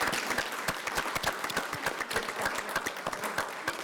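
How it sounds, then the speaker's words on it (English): Applause from attendees at a school board of education meeting, a steady, fairly distant patter of many hands clapping with no talk over it. "So one more round of applause"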